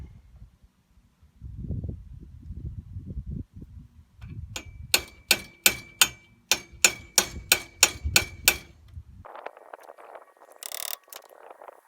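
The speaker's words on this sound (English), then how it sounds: "We're going to go ahead and tap in a couple pilot hole starts." A hammer taps pilot hole starts into a wall while building a firewood rack: a quick run of about a dozen sharp, evenly spaced knocks, close and loud, after some low handling noise.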